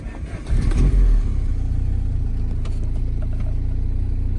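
A Saab 900 Turbo T8 eight-valve petrol engine turns over and catches with a loud, brief rev, then settles into a steady, rumbling idle close by with no talk.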